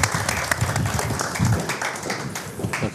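Studio audience clapping together in a Turkish television studio show, a dense, steady patter of many hands with no voices, holding even for about three seconds.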